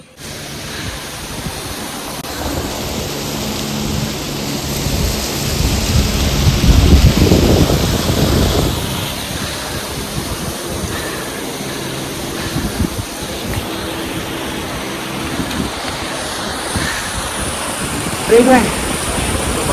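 A mountain waterfall roars on the Kedarnath trek, a dense continuous rushing wash of water, loud and steady throughout, with a voice speaking briefly over it.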